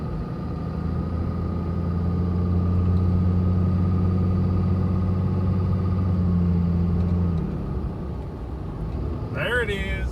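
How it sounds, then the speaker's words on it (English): A Cummins diesel engine in an International rat rod truck with cantilever suspension and a turned-up injection pump runs at a steady low rumble, then tapers off near the end as a voice briefly speaks. "Cantilever suspension, Cummins diesel, Northeast diesel turned this pump up."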